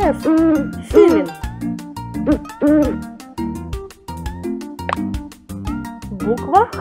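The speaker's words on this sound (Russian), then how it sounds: "F. Филин." An eagle owl in a children's alphabet cartoon gives a series of rhythmic hoots over bouncy background music, clear and close with short pauses between calls.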